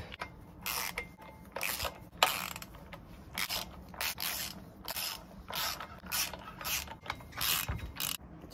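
A ratchet fitted with a 19 mm socket clicks in repeated bursts of quick pawl rattles, close and fairly quiet, during work on a turbo E36 build, with short pauses between strokes.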